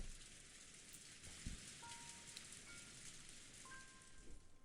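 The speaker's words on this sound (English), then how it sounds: "Is that rain?" Steady rain from the visual novel game Umineko When They Cry, a dense, even hiss of falling rain throughout with a faint low thump and a couple of soft tonal chimes layered over it.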